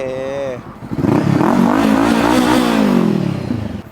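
Engine of a 2018 Honda CB500F motorcycle with LED lights, running and revving up from a brief dip to a steady loud drone that fades slightly at the end, with a voice heard over it at the start.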